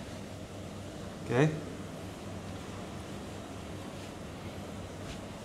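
Reducer motors on a double spiral IQF freezer tunnel run with a steady, even mechanical drone and airy hum in a factory; a person briefly speaks over it.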